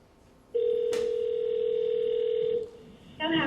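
At the start of a recorded phone call, a telephone line gives a single long electronic ring tone, loud and steady for about two seconds. A short tonal burst follows near the end.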